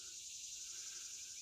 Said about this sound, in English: When the katydids are chirping, the heat is coming.